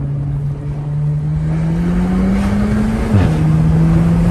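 An all-wheel-drive car accelerates hard, its engine note climbing steadily in pitch over several seconds, loud and close, then dropping sharply as it shifts gear and pulls again.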